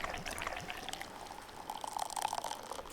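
Beer pours into a glass in the video game Dave the Diver, a faint, quiet stream of liquid splashing and fizzing steadily for a few seconds with no talk.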